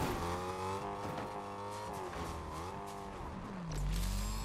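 Engine drone of a car driving in Fortnite, a steady tonal hum that rises and falls as the revs shift, with a deeper rumble swelling near the end.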